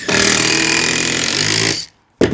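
A power driver sinks a screw into a flat roof board of a garden room in one loud, whining burst of under two seconds, then stops before briefly starting again.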